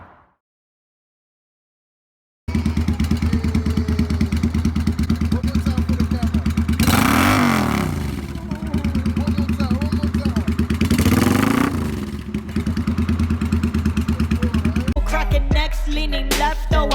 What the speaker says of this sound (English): When I rev, I go vroom, vroom, vroom.